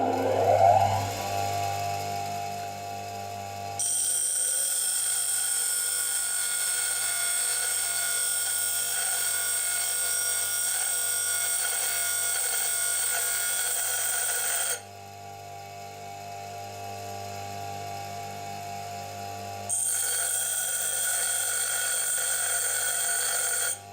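A high-speed steel boring bar pressed against a spinning grinding wheel gives a steady high whine and grinding hiss, cutting out briefly midway and returning, over the motor's constant hum.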